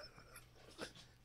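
A dog whimpers softly and breathes in faint, breathy pants, quiet and close, with a slightly louder whine near the end.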